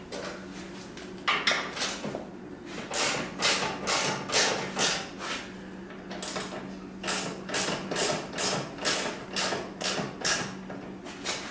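Ratchet clicking while loosening the bolts on an adjustable motorcycle rear shock, heard as repeated bursts of sharp metallic ratcheting strokes in a steady rhythm, close and clear with no talking.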